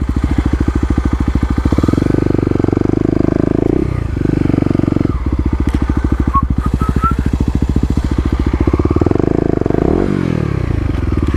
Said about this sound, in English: let's try and do a little burnout here in the dirt